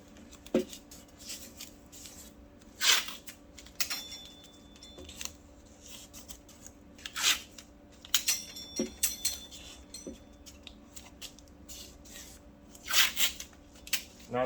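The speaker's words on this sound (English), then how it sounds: "So I'm going to tape up the bottom." Packing tape torn from a roll and pressed onto the bottom seam of a box during work on an SV650 swamp bike build, with several sharp, bright rips and crinkles spaced across quiet room noise.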